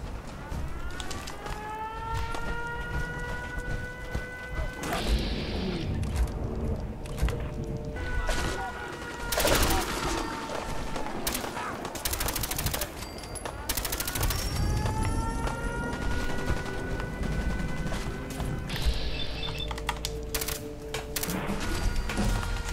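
Gunfire in the video game Fallout 4 Far Harbor, bursts of rapid shots and loud single cracks spread across the stretch, with game effects and tonal sounds between them.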